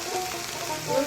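Onion paste and spices sizzle and spit softly in a hot oiled pan for Bengali fish kalia, with a faint stirring scrape and no voices.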